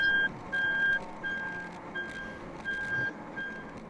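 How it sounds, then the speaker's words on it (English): A race car's backup alarm beeps repeatedly in an even rhythm when put in reverse, about six tones over a low rumbling background, at Gingerman Raceway. "So if you hear the backup beep,"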